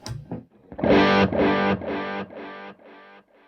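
A distorted guitar note through a tape-style delay pedal rings out, then repeats several times, each loud echo a little quieter and thinner than the last, fading away.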